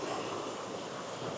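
Running water pours steadily at St. Mary's Falls in the Blue Ridge mountains, a dense, even broadband rush with no breaks and no voices over it.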